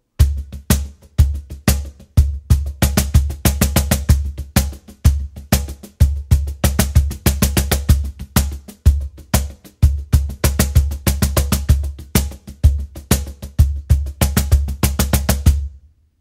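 A cajon plays a steady blues shuffle groove, deep bass thumps alternating with crisp slaps and soft ghost notes in a swung rhythm, loud and close with no talking, stopping cleanly at the end.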